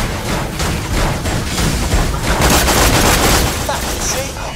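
Loud, dense gunfire from the video game Borderlands The Pre-Sequel Remastered, Claptastic Voyage DLC, rattling continuously in rapid overlapping shots with booming accents and no pause throughout.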